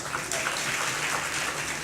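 An audience at a religious discourse claps, producing a dense, steady wash of applause that holds at an even level for under two seconds.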